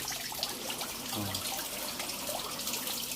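Water rushing down a koi pond waterfall after a stop valve is opened wider: a steady, broad splashing flow, close and continuous, with no voices over it.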